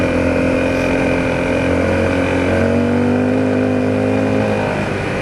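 A Honda CRF250L dirt bike ridden on loose ground while sliding, its engine droning loud and steady close by with small shifts in pitch and continuous wind and tire noise.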